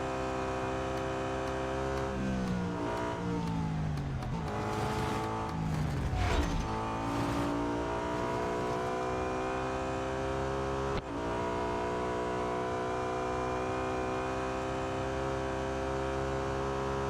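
BMW M3 GTR race car in a Real Racing 3 video game race, its engine droning loudly and steadily with rising and falling revs through gear changes, plus a brief sharp dip near the end, with no talking.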